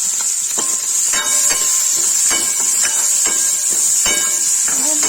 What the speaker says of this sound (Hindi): देखिए तेल गर्म हो गया, इससे प्याज डाल देंगे।